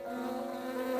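Honey bees buzz among flowers in a steady, faint, close-up drone with a humming tone, with no voices.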